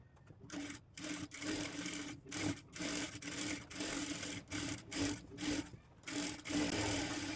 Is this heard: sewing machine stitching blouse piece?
yes